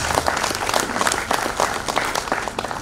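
Dense, steady audience applause fills a book launch event held at a bank head office, with many hands clapping continuously and fairly close for the whole stretch.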